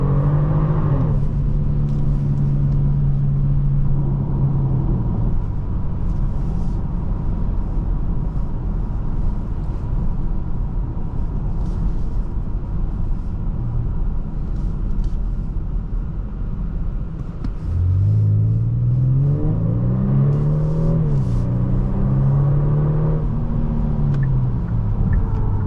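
Steady engine rumble from a 2023 Genesis G70 3.3T AWD on the road, heard from inside the cabin, with a continuous drone and rising engine tones near the start and again in the last third, no talking.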